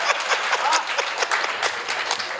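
Lively audience applause at a Hindi comic poetry gathering fills the whole stretch with dense, steady clapping.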